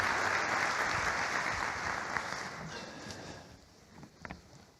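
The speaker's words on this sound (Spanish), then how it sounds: "les pido un fuerte aplauso para Nico y empezamos con la charla" Audience applause at a sports leadership summit talk, a dense burst of clapping from a crowd that fades out over a few seconds, leaving a few scattered claps and light noise.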